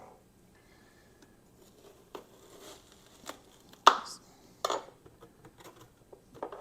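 A knife cuts a whole onion in half on a board, a quiet scrape followed by several crisp, close chops and taps, then lighter knocks fading out.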